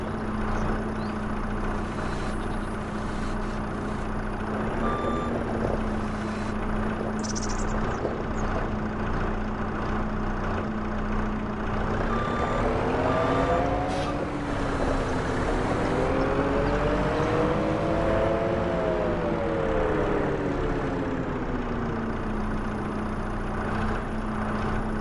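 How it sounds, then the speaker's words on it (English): A tractor engine hauls a plow in Farming Simulator 25, a steady loud drone whose pitch sags and rises partway through as the machine works under load, with no talking. "I'm really hoping that tractor can handle that plow."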